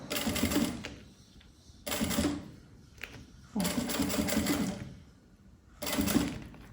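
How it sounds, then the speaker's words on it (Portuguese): A sewing machine stitches piping onto a fabric pouch in short bursts of rapid mechanical whirring, four runs of a second or two each separated by quiet pauses, close and clear. "é só alinhar o corte do vivo com o corte da minha peça e costurar."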